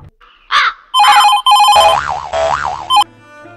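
A cartoonish ringing tone with warbling, sliding pitches after a few short electronic blips, loud and close, like a quirky phone ringtone.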